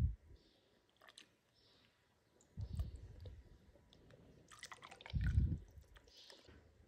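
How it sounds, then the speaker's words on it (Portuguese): Radiator fluid is poured into the radiator of a 2008 Suzuki RM-Z 250 dirt bike. Quiet, close glugs and gurgles come in a few separate bursts, with faint drips and clicks between them. "Vamos partir agora para colocar o fluido do radiador, certo?"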